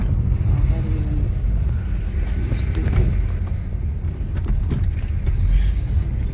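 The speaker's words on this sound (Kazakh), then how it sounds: "Мына Audi деген машина менен баратабыз." Steady low engine rumble and road noise from inside a moving car, with faint wind buffeting and occasional light rattles.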